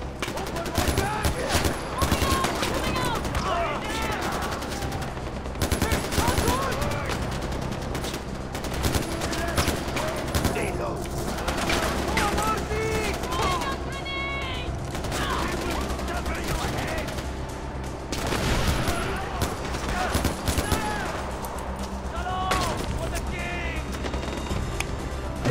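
Gunfire rattles almost nonstop through a firefight in the video game Far Cry 4, with dense automatic bursts and single shots and shouting voices throughout.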